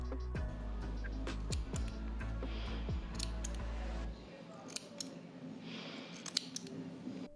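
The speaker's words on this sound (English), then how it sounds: "I highly recommend those thread cutters." Sharp thread cutters snip thread on a repainted Monster High/OMG fashion doll, with several crisp close clicks spread across the clip over a low background hum that drops away midway.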